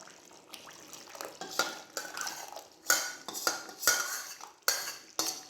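A spoon scrapes and knocks against a metal pot while Rajasthani gulab jamun curry gravy is stirred, giving a series of sharp clinks and scrapes at an irregular rhythm over a soft bubbling bed, close and with no talking.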